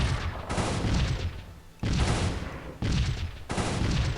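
Naval gunfire from a cruiser in the video game Civilization III sounds as four loud, roaring salvos in quick succession, each a broad blast that fades before the next, with no talking.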